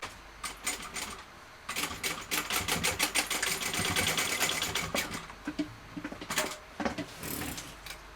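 A sewing machine bastes fabric in short bursts, stopping and restarting several times, close and moderately loud, with no talking.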